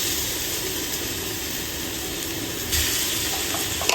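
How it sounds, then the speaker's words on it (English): Ginger garlic paste sizzles in hot oil in a pan, a steady close crackling hiss that holds throughout and briefly swells louder near the end, with no talking. "once your oil has already been heated, it's hot enough, you can add in 2 teaspoons of your ginger garlic paste"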